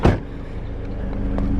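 The door of a Scion FR-S shuts with one short, solid thump at the start, followed by a quiet cabin hum.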